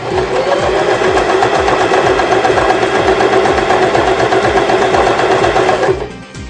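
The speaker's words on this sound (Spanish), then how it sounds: "realizamos la costura del ojal" A sewing machine stitches a buttonhole in fabric with a fast, even, close mechanical chatter that runs steadily for about six seconds and then stops abruptly.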